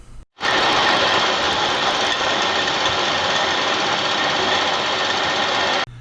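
A milling machine saw cuts steel stock clamped to the milling table, during restoration of an AR/5-E tool and cutter grinder: a loud, steady, continuous grinding whine that starts abruptly and stops abruptly after about five seconds, with no talking.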